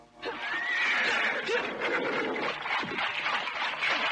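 Horses pulling a carriage at night neigh and whinny, with several high, wavering calls and snorts following one another. The calls are close and clear over a quiet background.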